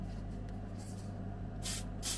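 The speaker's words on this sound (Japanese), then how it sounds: "瞬間硬化スプレーで硬化。" Accelerator spray for curing gel super glue on a 1/32 scale model truck build, heard as two short soft hissing bursts over a steady low room hum, the second burst shorter than the first.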